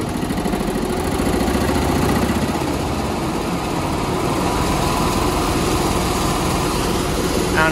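A furnace blower with an unbalanced wheel runs steadily and loud, its motor hum overlaid with a continuous rattling vibration throughout, no voices.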